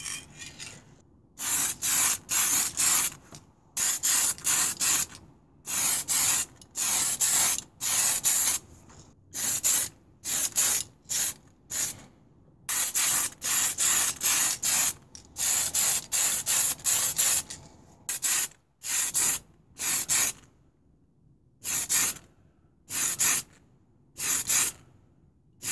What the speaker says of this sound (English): I'm just going to seal all that work in now with Tamiya's TS13 clear gloss.